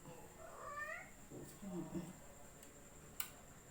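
A cat meows a few times at night near an outdoor dirty kitchen, with faint speech and quiet background ambience.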